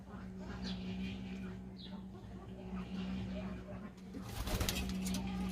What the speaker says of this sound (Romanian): Vreau să dau toți porumbeii, deci ăștia 4 care îi vedeți sunt disponibili toți.